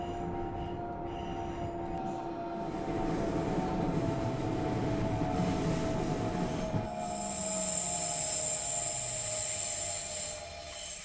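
A train on the Mittenwaldbahn in Train Simulator Classic rumbles along the rails while its wheels squeal steadily, high sustained screeching tones rising and shifting over the low running noise.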